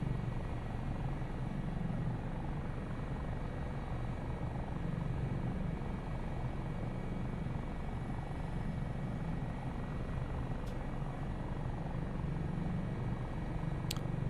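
Steady, loud rotor and turbine drone of an Airbus Dauphin helicopter in descending flight, heard from inside without pause, with no speech.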